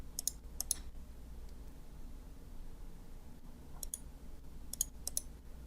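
Several crisp, quiet mouse clicks come in small clusters near the start and toward the end, the right button of a computer mouse pressed over faint room hiss, with no talking.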